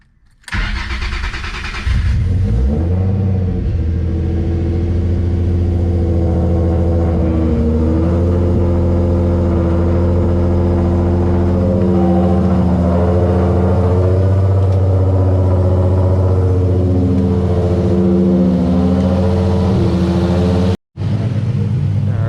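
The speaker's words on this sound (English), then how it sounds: "Y'all ready for that cold start?" A Nissan G35 Nismo HR engine cold-starts with a quick crank, catches, and settles into a loud, steady high idle with a few small rises in revs. The sound is close and sustained throughout, with no talk.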